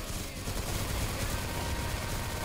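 Sustained automatic gunfire in the online shooter CrossFire on the Hoàng Lăng 2.0 map, a dense continuous rattle of rapid shots with no pauses, loud and close.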